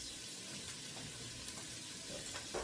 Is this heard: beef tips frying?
yes